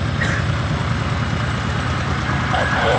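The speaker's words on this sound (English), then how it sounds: "Taxiing out now." Goodyear Corsair FG-1D piston warbird taxiing at an airshow, a steady loud low engine rumble and propeller drone held throughout with little change.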